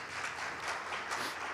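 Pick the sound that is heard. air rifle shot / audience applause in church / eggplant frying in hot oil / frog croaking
audience applause in church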